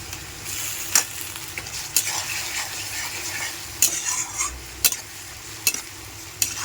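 Ginger paste frying in a pan with garlic and salt, a steady close sizzle broken by sharp scrapes and clicks of a stirring utensil every second or so, no talk.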